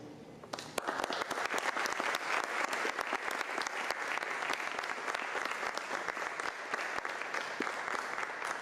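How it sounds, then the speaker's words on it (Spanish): After a psychoanalysis lecture, an audience bursts into applause: a quiet room gives way to sudden dense clapping that holds steady and crisp, with distinct hand claps standing out. "Muchas gracias por el aplauso."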